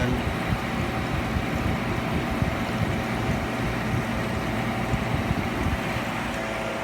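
A Philco Noiseless 6800 BTU window air conditioner runs steadily, its compressor and fan making a dense, constant broadband hum and rush that stays at an even level throughout.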